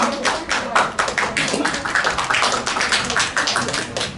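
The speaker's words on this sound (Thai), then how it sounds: "ปรบมือให้คุณกิมบอมอีกสักครั้งได้ไหมฮะ" Audience applauding for actor Kim Bum at a press conference for his 2023 Asia fan meeting in Bangkok, with sustained, even clapping from a sizable crowd in a room for the whole stretch.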